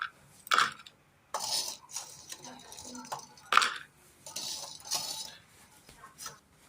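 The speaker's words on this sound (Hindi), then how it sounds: "तो देख रहे हैं फ्रेंड्स कितनी अच्छे शक्कर पारे की आवाज़ आ रही है" Crisp rattling and clinking of crunchy fried shakkar pare, sugar-coated sweet snacks, being stirred and tossed, in bursts of scraping with short pauses between.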